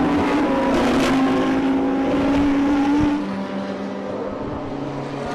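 Extreme Supercars snarl and roar together at the start of a circuit race heat, loud and close at first, then dropping as the pack pulls away, with no voices.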